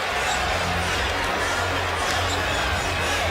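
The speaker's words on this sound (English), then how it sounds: "And this crowd is now very much into it." Basketball arena crowd at the 2001 NBA All-Star Game with the score tied late, a continuous loud wash of cheering and noise from the stands, steady throughout without a clear peak.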